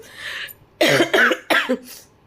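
A person coughs several times in quick succession, harsh, close bursts with short pauses between them.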